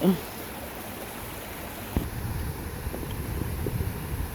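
Steady rushing of a rain-swollen river or creek flowing nearby in Blackwood Forest Recreational Park, a broad continuous wash of sound with some wind noise buffeting the microphone.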